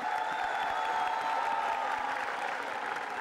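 Studio audience at a televised singing reality show, an elimination episode of X Factor India, breaks into steady, dense applause with faint cheering, sustained and fairly loud throughout.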